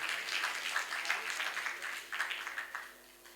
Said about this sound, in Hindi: एक बार जरूर ताली बजाइए इनके लिए।